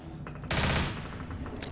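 A short burst of gunfire shooting zombies in Left 4 Dead, one loud close volley standing out against quieter game ambience, with a faint sharp report near the end.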